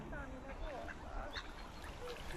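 Ducks at a lake being fed, faint scattered quacks and calls amid outdoor noise, with people talking nearby over them.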